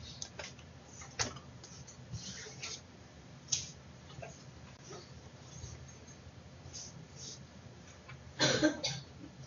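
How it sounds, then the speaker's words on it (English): A student coughs in a quiet math classroom during a lesson on derivatives: a few short, faint coughs and throat sounds, with a louder, harsher cough burst near the end. "No coughing in class."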